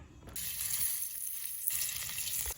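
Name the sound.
flower fritters frying in hot oil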